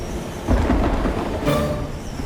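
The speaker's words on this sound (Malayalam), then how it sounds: "ഇതിപ്പോ മഴ പെയ്യുമെന്നാ തോന്നുന്നത്" Cartoon weather turning stormy: a low rumble of thunder swells with steady rain hiss, with a second crack of thunder following shortly after, loud and close with no talking.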